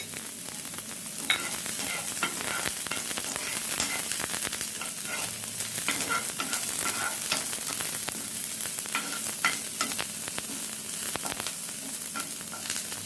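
Garlic sautéing in a pan for a tomato vodka cream sauce gives off a steady, close sizzle with a crackling hiss that holds even and continuous throughout.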